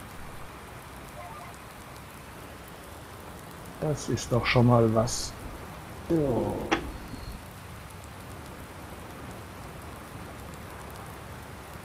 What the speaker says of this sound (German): Und der Regen wird immer stärker.